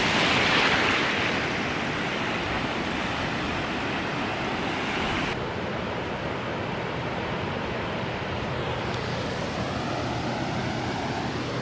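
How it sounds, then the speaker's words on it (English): Surf breaks on a rocky beach at Little Diggers, Coffs Harbour, a steady broadband wash of waves that swells briefly at the start and then holds an even rushing roar, with no talking. "It is pretty rocky and surfy here as well."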